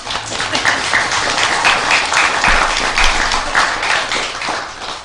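A studio audience at a live retiree-themed show claps warmly, a loud, sustained burst of applause running the full length without pause.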